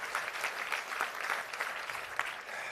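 Steady audience applause at an award gala, a dense patter of many hands clapping evenly from start to finish, moderately distant.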